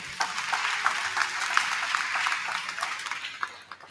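An audience at a morning event applauds warmly: a steady wash of many hands clapping, fairly near and even in level, fading slightly at the end.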